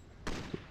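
A sniper-rifle gunshot in a video game: one sharp, loud blast that rings out briefly, with a short low thump following about a quarter second later, heard alone without talk.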